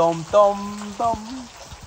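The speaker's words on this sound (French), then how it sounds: "Ça y est, ça commence à pleuvoir, La pluie tombe." Steady hissing rain begins falling during a cyclone, a soft broadband wash that runs under a nearby voice talking throughout.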